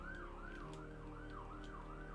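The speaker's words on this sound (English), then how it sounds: "I hear the sirens as well." A wailing emergency siren rises and falls in a steady, repeating sweep, faint and distant over a low continuous hum.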